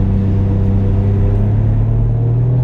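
Engine of a Toyota JZX100 Chaser running boosted, heard from inside the car: a steady, loud low rumble with a constant droning hum and no clear rise in pitch across the stretch.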